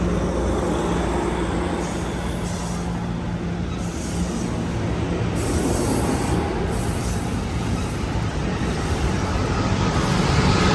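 An Amtrak train led by locomotive 8310 passes Santa Clara station, a loud, continuous rumble of rolling wheels close by with metallic squeals and rhythmic clatter throughout.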